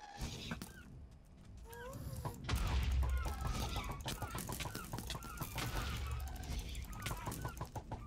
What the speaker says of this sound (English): I like how there's fucking birds in the Nether.